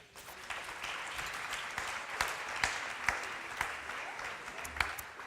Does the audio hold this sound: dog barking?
no